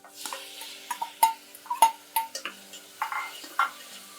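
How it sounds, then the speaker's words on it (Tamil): Tomatoes and curry leaves sauté in a pan for a roasted mutton curry. A faint sizzle sits under a rhythmic series of sharp spatula clinks and taps against the metal, close and clear. "இது நல்லா வதங்கட்டும்"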